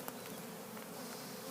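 A dense, steady buzz of many bees swarming close by on a cedar tree, continuous throughout with no voices.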